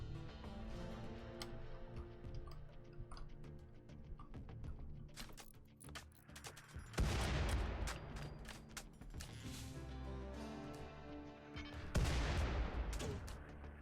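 Bursts of gunfire break out amid a busy, layered scene, with heavy volleys erupting around the seventh second and again near the twelfth, loud and close over a constant background.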